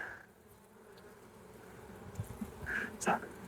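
Honey bees from a thriving, well-populated open hive buzz at a low, steady level, rising slightly toward the end with a few closer passes.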